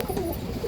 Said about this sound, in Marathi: मित्रांनो बघू शकता तुम्ही कबूतर आहेत.